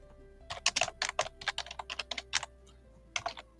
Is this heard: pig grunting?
no